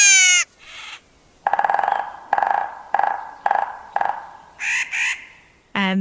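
A Clark's nutcracker, a corvid, gives a series of harsh, nasal calls: a rising opening note, then five evenly spaced raspy caws, followed by a quick double call and a short final note, all close and loud with nothing else behind them.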